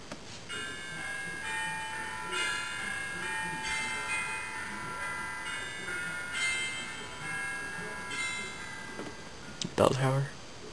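A melodic chiming bell-tower ringtone plays from an iPod Touch's small speaker, tones repeating in short phrases over faint room noise, ending with a brief clatter.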